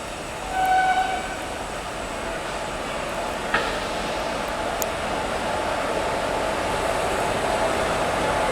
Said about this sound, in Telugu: చూద్దాం ఇప్పుడు ట్రైన్ ఎప్పుడు వస్తుంది